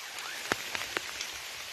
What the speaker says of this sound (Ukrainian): Дощ усилився.